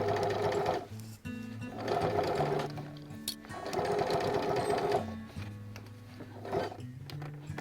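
A sewing machine stitching bias binding down in the ditch, running in several close bursts with brief pauses between, the motor whirring at a steady rhythm, no voices.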